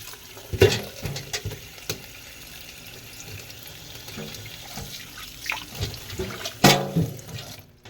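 Water runs from a tap with splashes and clatter of a cooking pot being rinsed, a few louder bursts standing out over a steady wash.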